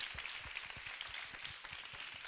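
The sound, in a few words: audience applauding the Jacquesville finalists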